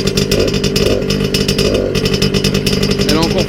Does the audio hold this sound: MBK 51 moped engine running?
yes